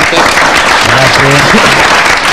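Applause from a studio audience on a local Udine rugby television programme, a dense steady patter of clapping throughout, with a voice speaking faintly underneath.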